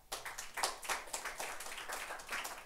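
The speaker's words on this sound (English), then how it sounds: "let us all give a round of applause to Ms." An audience at the Edutech 2018 launch event applauds a speaker being introduced. Individual claps are distinct and rhythmic from a modest crowd, and no one talks.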